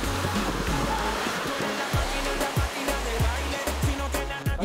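Ocean waves break and wash onto Jinha beach, where surfers ride them. The surf is a steady, loud roar with repeated crashes and no talking.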